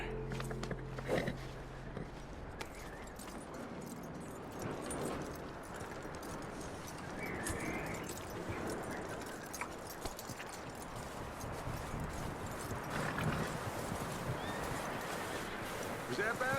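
A horse in Red Dead Redemption 2 walks with soft, regular clip-clop hoofbeats and gives a whinny, set against continuous outdoor game ambience at moderate level.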